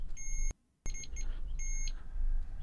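Electronic ghost beacon device giving off high, steady beeping tones in repeated bursts with a short gap of silence, close and fairly quiet over low background hiss.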